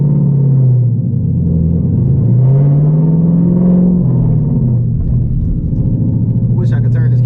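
Ford Mustang GT V8 with a ghost cam idling and revving nearby, a loud, lumpy chomping rumble whose pitch rises and falls, with people talking over it.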